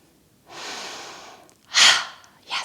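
A slow, deep inhale of breath, then two sharper, louder breaths close to the microphone in a quiet room.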